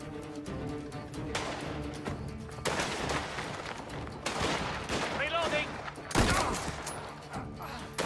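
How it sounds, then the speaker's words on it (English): Gunfire in the video game Mafia: The Old Country, with irregular bursts of shots and fusillades, loud and close, mixed with in-game voices and shouting. "I'll walk slowly out of cover and shoot toward him."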